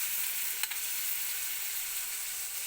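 Food fries in a pan with a steady, even sizzle and one brief clink of stirring early on.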